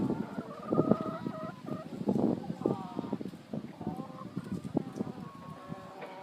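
Chickens in a henhouse cluck and squawk while being fed, busy overlapping calls and scratching close by, with a person talking over them.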